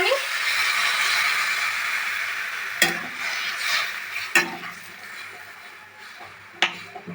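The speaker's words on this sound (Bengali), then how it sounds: "জল দিচ্ছি এবারে" Water poured into a pan of frying potatoes and stems with a little chilli powder, a steady loud sizzling hiss throughout with a few sharp clatters, no talking.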